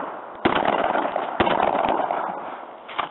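Shotgun blasts crack out at a skeet shoot, two sharp outdoor reports about a second apart followed by a fainter third, with echoing tails and a little distant background sound.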